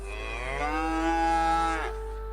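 A single long, loud cow moo rising and then dropping at the end, heard close and clear on stage during a school arts performance play.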